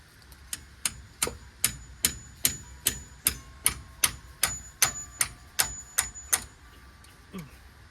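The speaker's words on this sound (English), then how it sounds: "Junkyard special hammer here." A hammer strikes metal about fifteen times in a steady rhythm, each blow sharp and ringing, close by, then stops.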